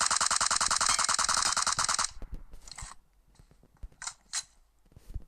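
Rapid automatic gunfire sprays for about two seconds in a mobile shooter game, a loud dense rattle of shots, followed by quieter scattered clicks and a few sharp bursts.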